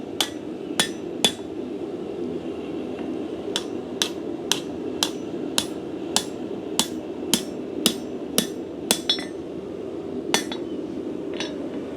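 Hammer blows ring on hot steel over an anvil while a bottle opener is bent to a sharp angle. About twenty bright, sharp strikes land at a steady rhythm, close and clear over a low background hum.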